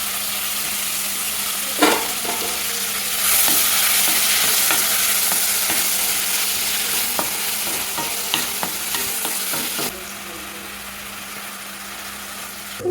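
Mushrooms stirred through broccoli rice in a hot pan, a steady sizzle broken by scattered scrapes and clacks of the spoon against the pan, close and moderately loud throughout.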